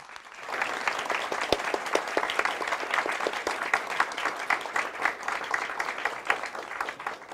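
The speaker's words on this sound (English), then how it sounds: "please give a warm round of applause to Secretary General Stoltenberg." Audience applause for NATO Secretary General Stoltenberg at a speech at the Chey Institute in Seoul: a steady, dense round of hand clapping from a sizeable hall crowd, rising quickly and holding for several seconds.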